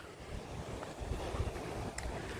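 Tat Khu waterfall in Laos pours steadily, giving a broad, constant rushing roar of water mixed with wind buffeting the microphone, with no voices.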